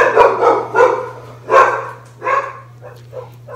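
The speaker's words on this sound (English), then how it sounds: "That was Douglas Doodle barking at who knows what." A dog barks indoors, loud and close, in a series of about six sharp barks and yips, irregularly spaced, with a steady low electrical hum beneath.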